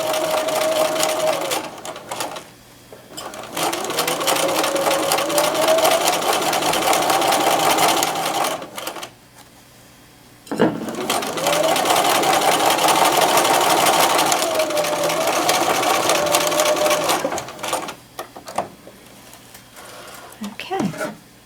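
A sewing machine stitches a lapped seam in leather in two long continuous runs separated by a brief pause, steady whirring close by with a faint voice over the start.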